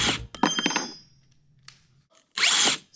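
A large power drill on a budget tool test runs in two loud, close bursts, the first about a second long and the second shorter, separated by a quiet pause.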